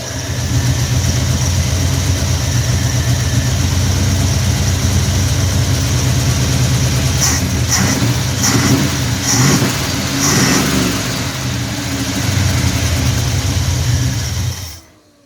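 An Oldsmobile car fitted with a Chevrolet 305 engine runs loudly and close by, holding a steady, throaty idle with a few light revs midway before it cuts off at the end.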